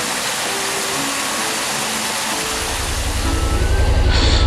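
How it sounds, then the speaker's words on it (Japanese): Unagi waterfall in Yamato, Kumamoto, a string of small cascading falls, giving a steady broadband rush of water that grows louder and closer toward the end, with no voices. "あ、これがうなぎ滝だな、多分。"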